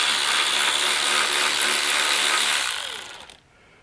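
Rapid ratchet clicking while bolts on aftermarket Wilwood brake calipers are loosened on a C5 Corvette; close and steady for about three seconds, then the clicking stops abruptly.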